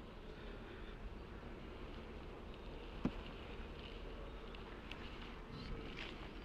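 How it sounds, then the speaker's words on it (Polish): Honey bees buzz faintly around a beekeeper's honey-coated hands during a hive inspection, a soft continuous hum with a few brief knocks. "Mam ręce w miodzie i pszczoły obsiadają na mnie."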